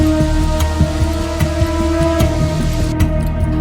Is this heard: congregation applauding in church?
no